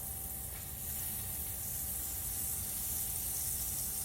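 Butter sizzles in a well-heated pan on high heat before cabbage is added for a beef and shrimp stir fry, a steady, close hiss without pause and no talk.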